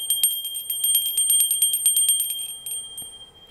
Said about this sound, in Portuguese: o sino com esse som, ele é extremamente importante